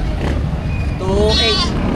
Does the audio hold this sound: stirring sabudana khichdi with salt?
no